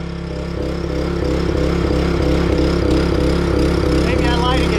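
A log splitter's small engine idling steadily and loudly up close, a continuous low throbbing drone with a regular pulsing beat throughout, no talk over it.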